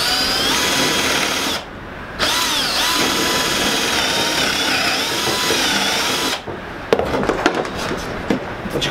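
A power drill bores a dowel hole into wood for a potting table, a loud continuous whine with a brief drop partway, then the motor stops and gives a few short rattling bursts at close range.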